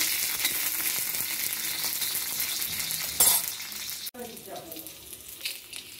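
Green chillies and garlic frying in oil, a dense close sizzle that runs steadily, with a sharp crackle partway and a quieter spattering afterward.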